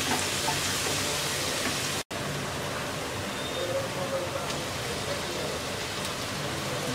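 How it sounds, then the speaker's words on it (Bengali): Thinly sliced tomatoes sizzle after being added to onions fried until soft, producing a steady, dense frying hiss that continues throughout with a brief dropout near the start, under a voice talking. "পেঁয়াজটা নরম করে ভেজে নেওয়ার পর দিয়ে দিচ্ছি 2টা টমেটো পাতলা করে স্লাইস করে নেওয়া"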